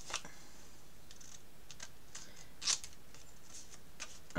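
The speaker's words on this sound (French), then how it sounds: "Je viens couper mes angles." Scissors snip the corners of a paper pocket for a handmade Christmas album, a series of short, crisp cuts at an uneven pace, close and quiet, with one sharper snip in the middle and no talking.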